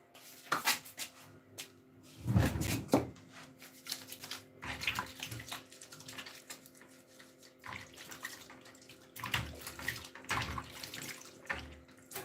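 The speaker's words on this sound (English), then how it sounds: "So I need to wash my hand now." Hands being washed under a running tap at a kitchen sink, steady water flow broken by splashing and rubbing surges, close and moderately loud, with no talking.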